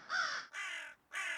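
A crow gives three harsh, loud caws close by, each lasting roughly a third of a second, with a brief gap before the last one.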